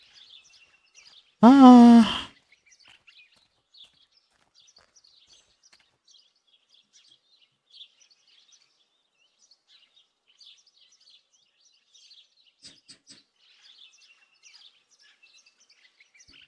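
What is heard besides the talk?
bird chirping, video game Martha is Dead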